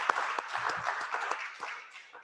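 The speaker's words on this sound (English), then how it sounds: "Let's thank them by applauding their presentation today." Audience applauding speakers after an evening panel dialogue, a modest scattering of hand claps, some sharp and near, tapering off toward the end.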